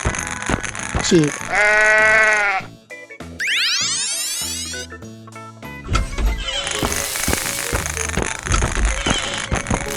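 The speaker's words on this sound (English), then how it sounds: "Sheep." A sheep in a 3D animal video game gives a loud, quavering bleat amid busy cartoon game effects, including a rising swoop, with voices talking over the noise.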